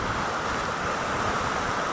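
Rainwater in Kolar rushing along a drain clogged with garbage, a steady, close gushing wash of flowing water that stays even throughout with no voices.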